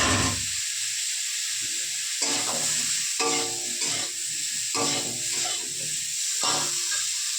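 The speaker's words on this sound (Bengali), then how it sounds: "ফুলকপিগুলো ভাজা করে নিচ্ছি।" Parboiled cauliflower florets, cooked with salt and turmeric, fry in a pan at home. A dense hiss and sizzle swells in bursts as pieces are stirred and turned, close and loud, with no talking.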